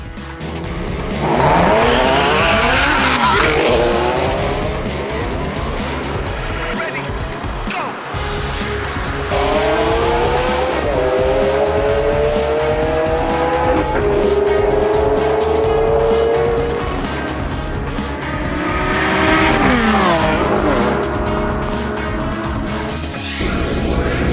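A Ferrari Enzo and a Novitec Ferrari F430 Bi-Compressor drag racing from launch control: loud, close engine roar with rising and falling revs through gear changes and tire squeal, continuing steadily throughout.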